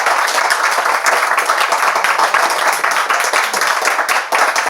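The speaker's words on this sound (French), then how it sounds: "on peut l'applaudir" Applause during a Bible quiz contest, loud close clapping from a small group with distinct individual claps, steady throughout before cutting off at the end.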